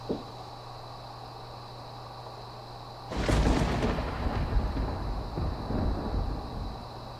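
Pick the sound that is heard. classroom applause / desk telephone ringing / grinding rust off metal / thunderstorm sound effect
thunderstorm sound effect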